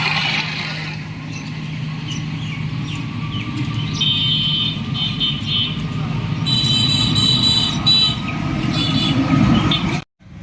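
A loaded truck, freshly fitted with a decorative peacock-style body in Sarishabari, pulls away toward Aricha, Manikganj, its engine a steady loud rumble over roadway noise for about ten seconds before cutting off abruptly.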